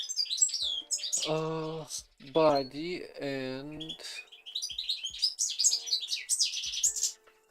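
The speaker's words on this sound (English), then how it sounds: "Because the bird is so loud." A bird chirps loudly outdoors, bright repeated tweets and calls scattered throughout, mixed with a person talking in the foreground.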